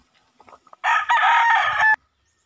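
A rooster crows in one long, loud call at close range in a farm compound kept with many chickens; a few soft clucks come before it.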